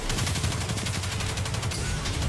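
A boss's flash cannon in the shooter game Destiny 2 fires in a rapid, dense barrage of booming blasts, loud and continuous with heavy low rumble throughout.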